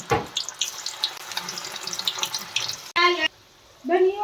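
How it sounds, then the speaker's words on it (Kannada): Cauliflower pieces fry one at a time in hot oil over a medium flame, giving a crackling sizzle. Near the end the frying is cut off by short bursts of voice. "ಈ ರೀತಿ ಒಂದೊಂದೇ ಆಗಿ ಮೀಡಿಯಮ್ ಫ್ಲೇಮ್ನಲ್ಲಿ ಫ್ರೈ ಮಾಡ್ಕೋಬೇಕು"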